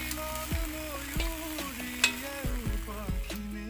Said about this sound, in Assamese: এয়া কলপাতত মাছ ফ্ৰাই।